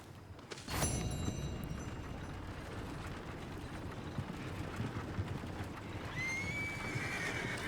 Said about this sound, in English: Call my horse over.